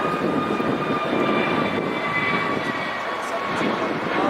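A United Boeing 777-200 jet airliner rumbles steadily with engine noise at an airport amid a backup of planes, a continuous broadband roar with faint tonal whine, heard alone.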